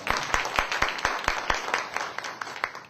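An audience at a church camp forum claps together in a rhythmic burst of applause, sharp claps repeating steadily for a few seconds, moderately loud.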